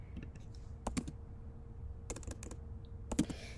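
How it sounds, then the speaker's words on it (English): Computer keyboard typing in a quiet room, a few scattered bursts of soft key clicks at an unhurried pace, close and fairly faint with no voices. "I'm just like typing it."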